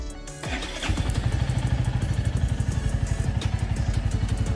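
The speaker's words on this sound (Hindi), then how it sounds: "चलिए अब इसको स्टार्ट करते हैं मोटरसाइकिल को देखते हैं" Royal Enfield Meteor 350 motorcycle fires up after a brief starter crank, then settles into a loud, steady, close thumping idle with no talk.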